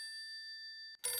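Telephone ringing, a clear bright electronic ring tone holding steady for about a second, then cut off by a burst of louder noise.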